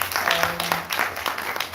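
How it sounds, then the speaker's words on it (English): Audience applause at a film festival event: a short, fairly faint wash of clapping from a crowd, with scattered hand claps standing out. "Let me give a round of applause to"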